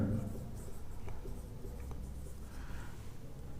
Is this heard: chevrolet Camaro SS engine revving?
no